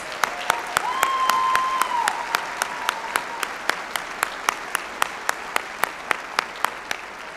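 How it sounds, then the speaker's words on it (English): Steady applause from a seated audience at a spring college commencement ceremony, loud and sustained, slowly thinning toward the end while a few sharp claps stand out. "Please join me in a round of applause to thank them for their support."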